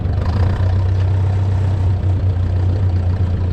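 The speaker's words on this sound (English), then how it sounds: "you guys might be interested to watch me back this into the barn. I'll take it nice and slow" A tractor engine runs at a low, steady idle while slowly backing a gooseneck wagon into a barn, a close, continuous rumble with a deep hum and no speech.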